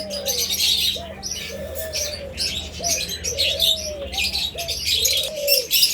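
Pigeons kept by a bird seller coo repeatedly in low, rising-and-falling calls, with busy chirping and twittering from many other birds layered above, all fairly close and steady throughout.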